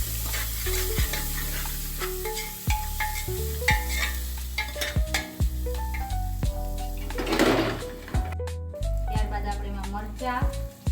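Chopped onion is stirred into a pan while cooking Kathiyawadi-style Gujarati khichdi. A spoon scrapes and clanks repeatedly against the metal pot over a constant frying sizzle, with a burst of hissing partway through.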